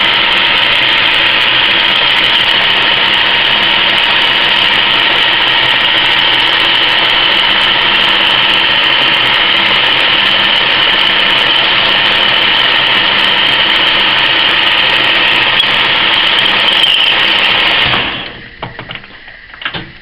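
A centre lathe drills a hole in metal, its steady loud whine and cutting drone running unbroken for about eighteen seconds, then cutting off abruptly into a few faint clicks.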